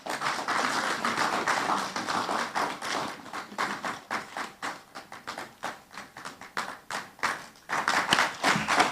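Audience at a public accounts committee sitting applauding steadily, many hands clapping in a close, continuous patter that thins into distinct claps midway and then swells again toward the end.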